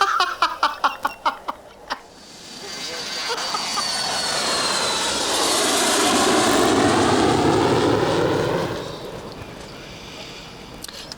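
An airplane engine roars up into a loud, swelling drone that holds steady for several seconds, then cuts off abruptly; a burst of rapid tapping comes before it.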